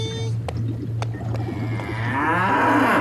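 A dwarf cow lets out a long, close moo that swells louder toward the end, following a few sharp knocks over a steady low hum.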